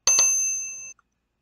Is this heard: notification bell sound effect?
yes